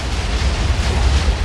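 Explosion in a video game: a loud, dense rumbling blast with heavy low-end roar sustained throughout, no voices over it.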